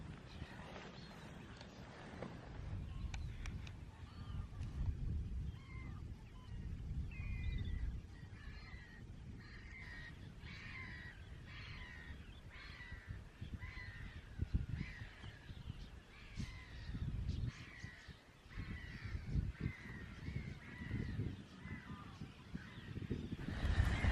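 Noisy birds on Old Hall Marshes in Essex, a steady chorus of repeated calls and caws over windy, rumbling outdoor background, fairly close and continuous throughout with no talking.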